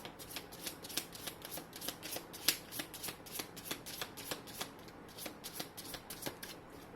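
A tarot card deck is shuffled close up, a steady run of soft riffling flicks repeating at an even pace for several seconds, quiet and alone.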